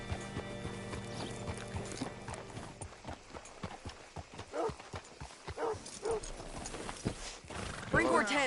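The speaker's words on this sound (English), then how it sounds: "Hitch your horse up here." Horse hooves clip-clop at a steady walk on ground in the Red Dead Redemption 2 video game, with an occasional snort or whinny, close and moderately loud under a soft ambient background.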